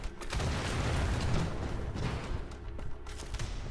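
An enemy blows up in Wolfenstein: The Old Blood with a heavy, rumbling blast that swells and lingers as a rolling, debris-filled roar, fairly loud with no voice over it.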